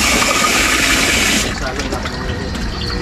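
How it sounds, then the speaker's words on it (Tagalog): Water is poured into a cooking pot of soup in a loud, steady gushing stream for about a second and a half before it stops, followed by quieter background sounds. "dagdagan na natin ng tubig para tuloy-tuloy na ating papakulo."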